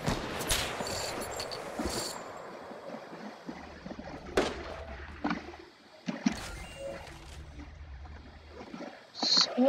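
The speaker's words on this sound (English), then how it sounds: "Someone shot at me." Gunfire from a Fortnite match, with a dense burst of shots at the start followed by scattered sharp cracks and reports over a low rumbling game background.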